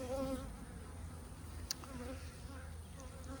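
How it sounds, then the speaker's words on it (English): Honey bees buzz steadily on a hive frame during a spring nectar flow, a dense close swarm hum with wavering pitch and a brief click partway through, no talk over it. "So I've got bees all the way across."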